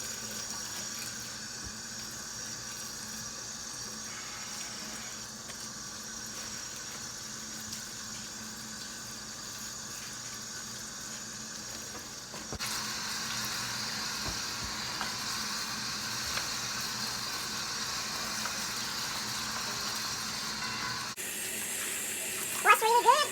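Fresh sweet potato leaves being washed under a running tap, a steady rush of water that shifts in tone partway through and ends with a brief clatter.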